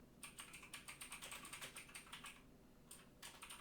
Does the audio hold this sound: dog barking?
no